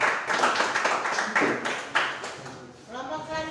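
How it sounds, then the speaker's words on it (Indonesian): Students in a classroom clap after a group presentation. The clapping is brisk and fairly close, thins out toward the end, and a voice begins to speak as it fades. "kita berikan tepuk tangan"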